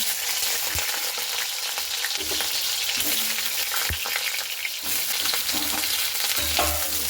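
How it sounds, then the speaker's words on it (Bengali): Potatoes frying in mustard oil in a wok for a vegetarian elephant-foot yam dish, a steady loud sizzle with occasional scrapes and clinks of a spatula stirring, no voices. "এখানে আমি আলুটাকে খুব সুন্দর করে লাল লাল করে ভেজে নিচ্ছি।"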